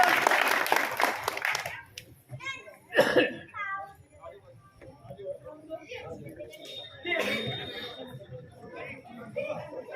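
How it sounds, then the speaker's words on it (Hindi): A crowd at a political gathering claps loudly for MLA Sanjeev Beniwal; the dense applause fills the first couple of seconds, then gives way to scattered shouts, voices and bursts of clapping. "जोरदार तालियों के साथ आदरणीय विधायक, भावी विधायक संजीव जी बेनीवाल साहब"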